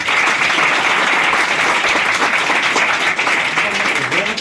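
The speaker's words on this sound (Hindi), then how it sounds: "ताली बजाओ एक बार" A crowd at a motivational talk on Indian history claps loudly and continuously, a dense, steady burst of applause filling the hall with no pauses.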